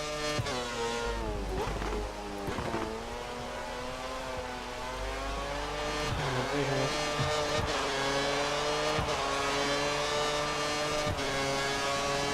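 A Formula 1 race car engine screaming at full revs in the F1 2013 video game on the Hungary circuit, a loud sustained high-pitched whine with repeated sharp gear-shift dips and pitch sweeps, no talk over it.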